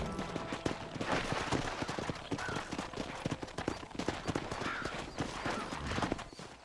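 Horse hooves clip-clopping at a run in the Western video game Red Dead Redemption, a steady busy rhythm of hoof strikes mixed with background game sounds and some voices.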